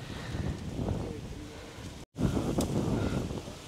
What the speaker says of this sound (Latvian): tāds vējš sākās, vispār neko nevar izdarīt.